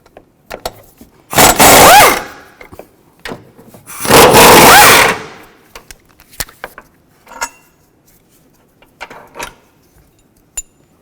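Two loud bursts of a ratcheting tool or impact gun about two seconds apart, each lasting around a second, as engine mount bolts come out with a 15mm socket on a 2009-17 Chevy Traverse, with small clicks and clanks between them.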